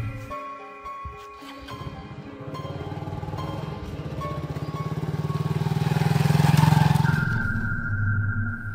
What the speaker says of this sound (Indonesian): Menggunakan motor kuno miliknya, Supri pun melaju pulang.